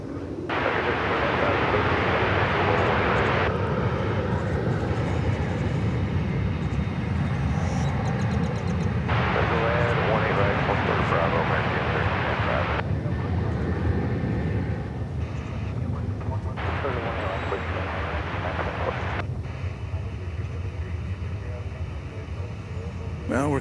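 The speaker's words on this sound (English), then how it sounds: "That was American Flight 924 coming in from Oklahoma City." An American Airlines jet arriving from Oklahoma City at DFW Airport makes a loud, continuous engine roar that rises and falls in broad swells, with a person talking over it.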